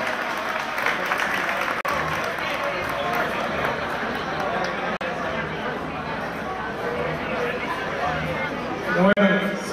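Applause from a gala audience, a dense, steady wash of clapping mixed with crowd chatter that holds across the whole stretch, with voices running underneath.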